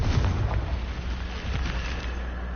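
Confringo blasting spell from Hogwarts Legacy going off, a booming explosive burst at the start followed by rumbling, crackling blast noise that sustains loudly with no talking.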